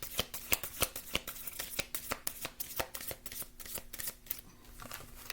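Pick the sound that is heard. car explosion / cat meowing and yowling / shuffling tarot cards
shuffling tarot cards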